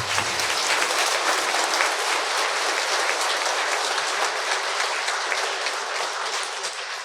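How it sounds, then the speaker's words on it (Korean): A church congregation gives loud, sustained applause to a departing parish priest at his farewell Mass, a thick, even roar of many hands that carries on without a break and tapers slightly at the end. "큰 박수 부탁드리겠습니다"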